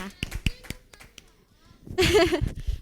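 A congregation at a children's Sunday worship service in a church bursts into a short round of hand clapping mixed with cheering voices, following a quiet stretch of speech and a few scattered taps.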